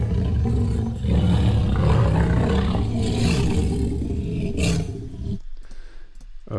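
A designed T-Rex roar sound effect: a loud, dense, continuous roar lasting about five seconds, then cutting off abruptly to near silence.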